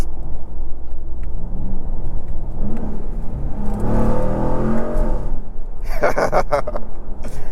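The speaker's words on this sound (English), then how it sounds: "Just go through the gears in this truck." A 2023/2024 RAM 1500 TRX Havoc Edition pickup engine roars and climbs in pitch as it accelerates, easing between gear changes, loud and close, with a brief clatter at the end.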